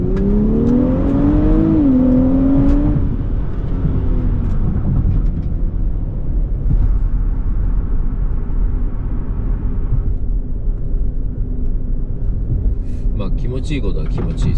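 A Nissan Fairlady Z Nismo accelerates on a road before dawn, a loud cabin engine drone rising in pitch through a gear then settling into a steady rumble, with people talking over it.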